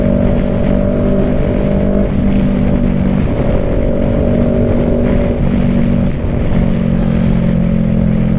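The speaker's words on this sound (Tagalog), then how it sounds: "Maharlika highway na to mga motor" Motorcycles and other traffic on the Maharlika highway in Batangas, heading toward Carmona, make a loud, continuous engine drone with steady tonal hum that shifts in pitch as vehicles pass close by, with no talking.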